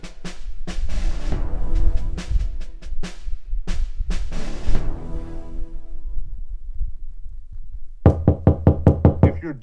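Several rounds of sharp knocks strike a door, in rapid clustered bursts with gaps between them, then a final quick volley of raps, loud and close.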